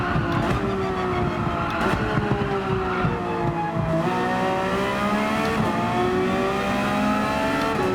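Race car engine at Fuji in Gran Turismo 7, a loud, close, high-revving whine climbing through the gears with brief dips at each shift, the pitch rising steadily over several seconds without any voices.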